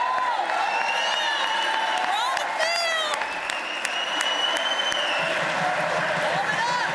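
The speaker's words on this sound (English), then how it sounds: "I just noted that 25 senators stood up to clap for that" Senators in a legislative chamber give sustained applause during a Pennsylvania governor's budget address, a dense, even roar of many hands with scattered whoops and cheers rising above it, loud and continuous.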